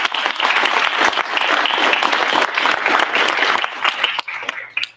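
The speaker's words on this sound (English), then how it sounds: "So round of applause for everybody again." An audience at a WSCAM Pittsburgh East awards ceremony gives a loud, dense round of applause that holds steady, then thins into scattered claps and fades away near the end.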